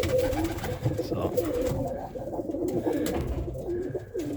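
Old school Irish tumbler pigeon cocks coo steadily in a loft, soft throaty calls overlapping continuously at close range with no talk.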